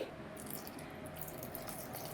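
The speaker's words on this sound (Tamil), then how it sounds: "இப்போ கொஞ்சம் கொஞ்சமாக தண்ணி ஊற்றி" Water pours little by little into flour for samosa dough, a close trickling and splashing stream running steadily for a couple of seconds with no voices.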